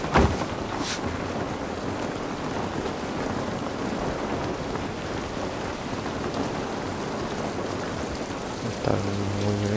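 Steady, dense rain hiss in The Last of Us Part I on PlayStation 5 fills the whole stretch at an even level, with a brief low rumble near the end.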